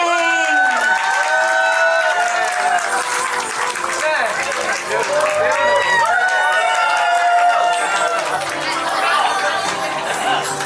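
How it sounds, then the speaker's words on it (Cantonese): Guests at a Chinese-style wedding applauding and chattering, a lively crowd filling the room, with cheerful voices high in the mix over scattered clapping throughout. "俾掌聲！"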